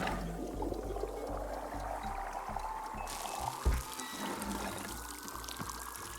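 Old tea poured out in the Wanderstop video game, a steady liquid stream with a rising pitch as the vessel fills or empties, fairly quiet over a soft musical background.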